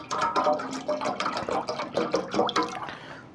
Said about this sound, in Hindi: मैंने ज़रा थोड़ा ज़्यादा बनाना है तो उस हिसाब से मैं पानी भी थोड़ा ज़्यादा डालूँगा।